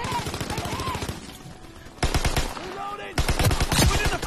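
Rapid automatic gunfire in the World War II shooter Call of Duty WWII comes in loud, close bursts separated by short pauses, with other in-game voices shouting in the background.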